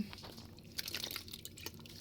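Pine mushrooms are washed in water by hand, producing faint, close splashes, drips and soft squishy sloshing in irregular bursts.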